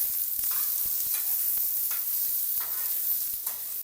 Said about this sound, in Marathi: आता टमाटा टाकू याच्यामध्ये। टमाट्याला पण चांगलं परतून घेऊया।